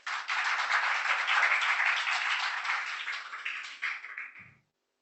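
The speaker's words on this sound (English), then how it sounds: "Give Amway a round of applause." Audience applause at an Amway business presentation: a dense burst of clapping starts abruptly, holds steady for about four seconds, thins out and cuts off sharply.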